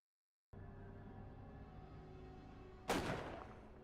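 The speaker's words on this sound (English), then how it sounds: "I just heard a gunshot" A single sharp gunshot from the Resident Evil video game, loud and sudden over a steady low game ambience, with a brief decaying tail.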